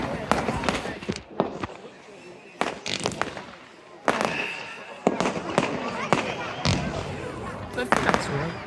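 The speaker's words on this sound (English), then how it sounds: "Oh, very nice fireworks." Fireworks bursting in a rapid irregular series of loud sharp bangs and crackles, some close and some farther off, with voices talking now and then underneath.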